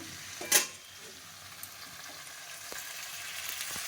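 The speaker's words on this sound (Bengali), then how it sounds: "কাঁচকলা আর আলু একসঙ্গে ভাজা করব" Green banana and potato frying together in a frying pan, a soft, steady sizzle with a sharp clatter near the start and light stirring scrapes later, fairly faint and alone.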